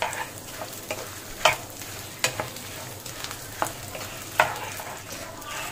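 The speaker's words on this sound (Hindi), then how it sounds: "इसको लगातार अलटते पलटते हुए हम फ्राई कर रहे हैं" Edible gum (gond) frying in a pan while being stirred continuously: a steady close sizzle with repeated scraping strokes of the spoon every second or so, no talk.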